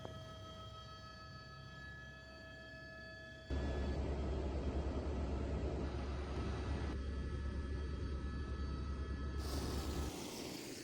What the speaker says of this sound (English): we headed out for a helicopter ride to go up to the Franz Josef Glacier